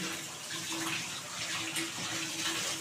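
Water pours steadily from a tap into a container in a home kitchen, a continuous close splashing hiss that stays even throughout.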